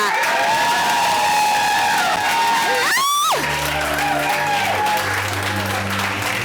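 A large audience claps and cheers for a Hall of Fame inductee, South African road running legend Blanche Moila, at a gsport awards event, with loud sustained applause, whoops and music tones sweeping over the crowd.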